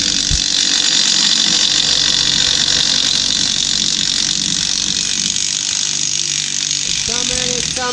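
A ratchet chatters through a 3/8 reducer while working bolts on a Jeep Commander front lift, a loud, fast, continuous mechanical rattle close by, with a brief voice near the end.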